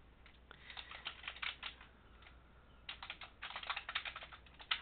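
Typing on a computer keyboard while setting up a blog on Blogger.com, heard as quiet, close key clatter in two bursts separated by a short pause, with no talking.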